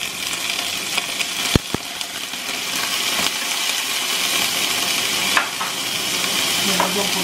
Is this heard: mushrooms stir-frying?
yes